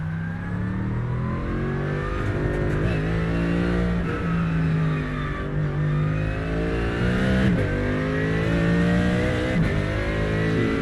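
A race car engine heard from the cockpit in the iRacing sim, loud and continuous, its pitch rising with each gear pull and dipping at brief shifts, with no talk over it.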